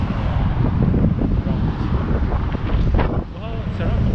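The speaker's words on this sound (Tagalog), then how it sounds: "Wow, sarap hangin." Strong wind buffets the microphone at a waterfront memorial park in Minatomirai, Yokohama, near the sailing ship Nippon Maru, a steady loud rush throughout with a brief dip near the end.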